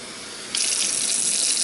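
Water runs steadily from a kitchen tap while pizza dough is being prepared, a constant hissing gush that starts abruptly and continues without pause, close and fairly loud, with no talk.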